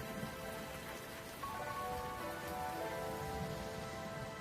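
Rain falls steadily as a soft, even hiss of drops on surfaces, faint and continuous throughout with a faint tonal hum underneath and no voices.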